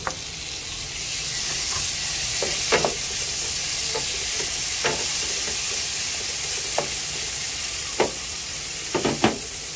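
Tomatoes sizzling in a hot pan for a mung bean dish, a steady close frying hiss broken by scattered clinks and scrapes of stirring.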